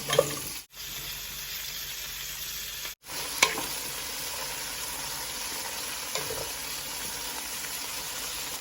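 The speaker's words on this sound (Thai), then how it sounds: "เดี๋ยวเจียวนะเอากระเทียมใส่น้ำมันมะกอก พอกระเทียมมีกลิ่นหอมแล้วบอกก็จะใส่พริกหยวกลงไปเลยจ้ะ" Garlic and bell peppers frying in olive oil, a steady close sizzle that runs continuously with two brief cut-outs, plus occasional small clinks of stirring.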